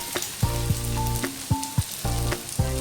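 A half portion of noodles sizzles loudly in hot oil for American chopsuey, with a steady frying hiss broken by repeated sharp clanks of a utensil stirring and tossing in the pan.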